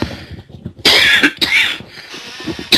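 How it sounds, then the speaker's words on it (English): A few sharp coughs burst out close by, loud and harsh, separated by short pauses, with quiet low murmuring before them. "I'm coughing off mic here"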